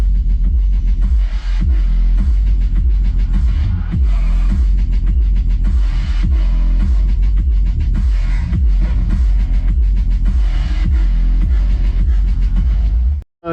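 A DD Audio 6.5-inch subwoofer in a car thumps out deep, hard-hitting bass in a steady pulsing rhythm, loud and sustained throughout, with no voices.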